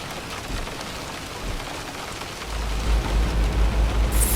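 Rain in Euro Truck Simulator 2 drums steadily on a truck cab in a heavy, continuous hiss, with a low rumble swelling beneath it partway through.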